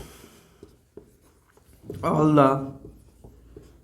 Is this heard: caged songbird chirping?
no